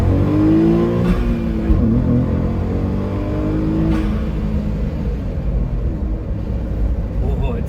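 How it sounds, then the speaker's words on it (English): A LibertyWalk Honda S660 with its turbocharged engine mounted right behind the cabin drones and revs loudly from inside the car, a steady low rumble with rising and falling engine tones throughout. "It sprays at you with its turbo sound. It grunts at you with its engine sound."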